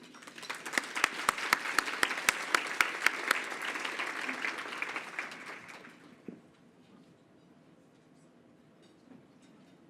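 An audience at a STEM education event for women nuclear leaders claps to welcome Ms. Laurie Swami to the stage, with dense, steady applause for about six seconds before it fades into quieter room sound.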